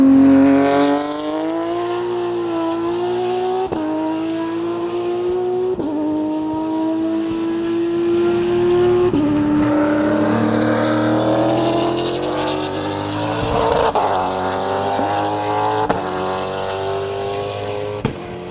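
A race car braking hard into a track corner, its engine note dropping in steady downshift steps, then picking up again with a loud, continuous roar close to the microphone.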